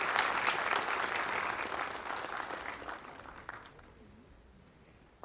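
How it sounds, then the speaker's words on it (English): Audience applause at a conference inaugural session, full clapping that gradually thins and fades out over a few seconds before near silence. "A round of applause."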